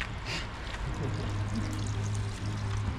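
Tap water runs steadily into a tank during a van conversion, a continuous pouring and gushing rush with a low hum underneath, held at an even level throughout.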